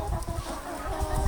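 Chickens clucking in a snowy farmyard, a steady run of soft, close clucks and low bird murmurs with no talking.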